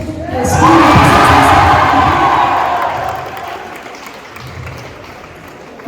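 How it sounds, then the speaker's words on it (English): A school farewell crowd for a graduating Grade XII batch bursts into loud applause and cheering for a physics teacher, swelling quickly, holding strong with shouts and whoops, then fading over several seconds. "I want you to give a big round of applause to Karthikeyan, sir, physics teacher."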